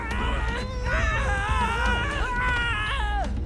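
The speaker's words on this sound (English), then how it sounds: "Why are y'all screaming? It's just fire." Several game characters in Wasteland 3 scream in pain while burning, continuous wavering high-pitched wails and shrieks overlapping one another, loud and sustained throughout with dense background combat noise.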